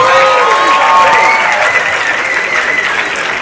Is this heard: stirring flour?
no